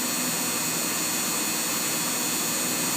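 A Haas VF0 three-axis CNC vertical machining center spindle runs at a steady high speed after jumping to 7,500 RPM, giving a smooth, even whine with broad hiss and no other sounds.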